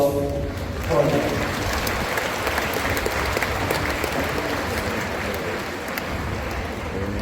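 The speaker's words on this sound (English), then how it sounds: "A warm round of applause for them." A large crowd at a graduation commencement applauds continuously in a loud, dense roar of clapping that holds steady throughout, with faint voices mixed in.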